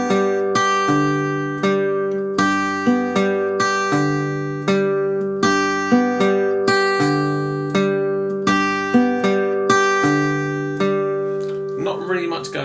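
An acoustic guitar plays a fingerpicking pattern, a steady alternating bass under plucked chords, repeated bar after bar, close and clear, ending with a brief scrape.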